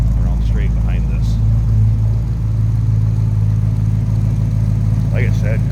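A 1966 Chevrolet Bel Air wagon's 283 V8 with automatic transmission runs steadily at a loud, close idle, with a deep even rumble throughout and faint voices briefly over it.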